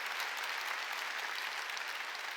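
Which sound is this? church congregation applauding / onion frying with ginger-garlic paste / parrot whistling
church congregation applauding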